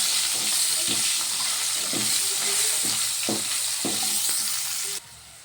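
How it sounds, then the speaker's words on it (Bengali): Cut potatoes seasoned with salt and turmeric sizzle steadily in a pan, with repeated scraping clicks of a spatula stirring them at a moderate pace, close and alone. "এবার একটু ভেজে নেব।"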